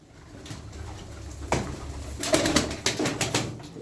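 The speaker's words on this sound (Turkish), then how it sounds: "Kanat seslerini kesin." Kara Şimşek pigeons beat their wings in quick fluttering bursts, close by, with soft cooing mixed in and several sharp flaps clustering toward the end.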